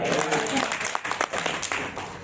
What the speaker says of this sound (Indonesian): Tepuk tangan buat Pak Reza